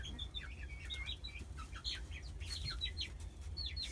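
Backyard chickens, roosters and hens on a small Maryland farm give repeated chirping and clucking calls over a steady low background hum, moderately near and continuous with no talking.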